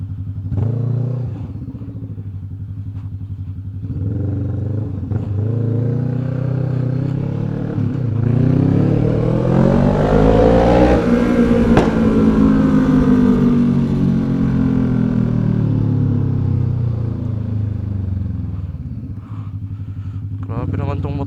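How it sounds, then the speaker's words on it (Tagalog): A loud big bike motorcycle ridden near Intramuros, its engine droning close by, then revving and swelling into a strong roar before easing back to a steady rumble. "Grabe naman tong motor na to, sir. Ang ingay."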